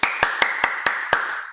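A single person claps alone, six crisp, close claps in an even rhythm over a sustained tonal hum, with no talking.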